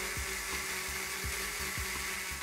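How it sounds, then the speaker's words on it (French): A Dremel rotary tool fitted with a soft brush cleans the surface of an integrated circuit chip being laser-stripped, giving a steady high whir with a regular ticking pulse, up close, with no voices. "j'y passe un petit coup de Dremel avec une brosse souple pour bien faire en sorte qu'il ne reste plus rien de la passe"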